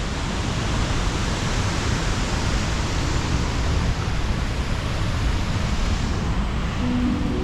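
A tall waterfall pouring large amounts of clear, cold water at a resort homestay, a loud, dense, unbroken roar of rushing water that holds steady throughout with no talk.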